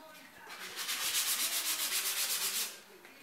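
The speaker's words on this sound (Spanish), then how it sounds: "primero comenzamos con lijar la caja para que tenga una textura más suave" Close, brisk sanding strokes rub across a wooden box in a fast even rhythm, swelling for a couple of seconds and then fading out.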